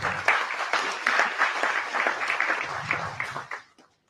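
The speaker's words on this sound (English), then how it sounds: "So we need to give ourselves a round of applause." A conference audience breaks into a round of applause, a dense spread of clapping that holds steady and then tapers off and stops.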